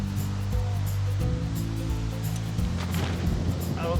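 Strong wind blows outdoors near a chairlift in the Grand Tetons, a loud continuous roaring rush buffeting the microphone from start to finish.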